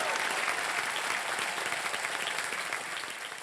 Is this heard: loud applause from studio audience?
yes